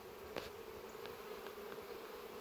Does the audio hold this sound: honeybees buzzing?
yes